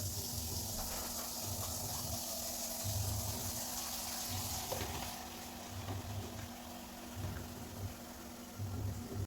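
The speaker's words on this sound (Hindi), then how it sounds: "यहाँ पर दोनों बकेट के अंदर मुझे पानी करना पड़ेगा।" Tap water runs steadily into two buckets to soak clothes, a continuous gushing hiss with a rhythmic low pulsing of a pump underneath, close and fairly loud throughout.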